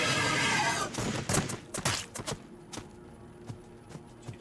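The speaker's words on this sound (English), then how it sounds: "Open fire! They shall know death!" Gunfire in the strategy game Warhammer 40,000: Battlesector: a loud opening volley followed by a string of sharp separate shots that thin out and grow quieter.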